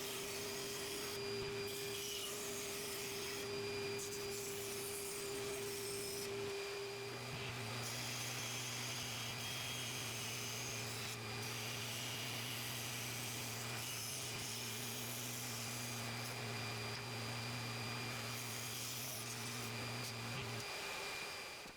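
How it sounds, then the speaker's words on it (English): A bandsaw hums steadily, its tone shifting partway through as wood pieces are cut out, with soft rasping of the blade through the timber, close and continuous with no talk. "Cut everything out carefully on the bandsaw."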